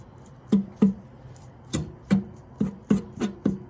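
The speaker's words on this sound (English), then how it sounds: "run your knife real, close, but not too hard, so it doesn't make holes over your chiles" A knife scrapes charred skin off roasted chiles for chile rellenos, a series of about eight short, close scraping strokes in an uneven rhythm, with no talk.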